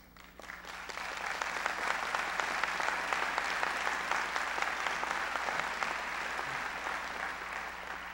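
A large audience applauds at a university bicentennial celebration where President Clinton is speaking. Dense, sustained clapping swells in after a moment and holds steady, loud and close, with no talk over it.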